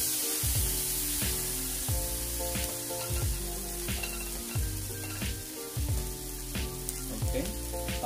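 Trout fries on a griddle with a loud, steady sizzle and hiss that stays close and continuous throughout, with some light stirring under it.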